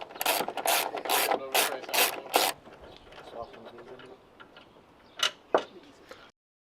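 Bolts on the front headlight bracket of a 2013 Nissan GT-R come out with a burst of quick ratcheting clicks, then quieter rubbing and handling noises and a couple of sharp clacks, close and fairly faint.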